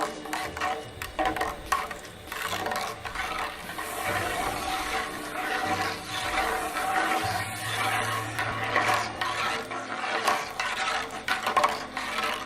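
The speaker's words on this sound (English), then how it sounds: "I'm going to stir in the salt." Salt being stirred into a tie-dye solution, a steady wet swishing and scraping of liquid in a container, moderately loud and continuous with irregular clinks and rattles throughout.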